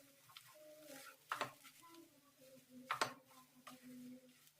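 Masala is stirred by hand with garam masala and chopped coriander leaves: soft, faint scraping in a quiet kitchen, with a couple of sharp utensil clicks against the pan.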